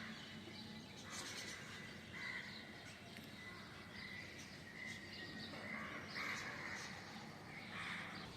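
Crows caw amid scattered bird calls and chirps under a grey, drizzly sky, the calls faint and distant over a steady hiss of ambient noise.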